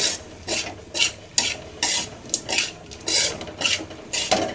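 A spoon stirs and tosses steamed raw banana pieces with masala in a pan, making a regular series of scraping, rasping strokes against the metal, close and moderately loud with no talking.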